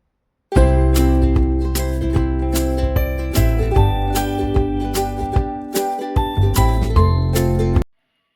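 Clean, dried dishes clink and ring as they are stacked and put away in a home kitchen, a continuous run of close metallic and ceramic jingles and knocks with no talking.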